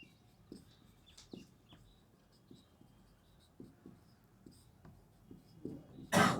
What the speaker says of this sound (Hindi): नीचे लिखते हैं